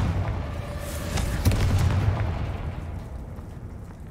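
A Confringo spell explosion in the Hogwarts Legacy video game lands as one heavy booming blast midway, trailing into a lingering low rumble under the game's ambience.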